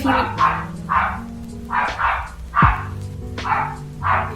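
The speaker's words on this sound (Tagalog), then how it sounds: "the dog finally calmed down" A dog barks loudly and close by, about eight sharp barks in a steady, evenly spaced rhythm with nothing else heard.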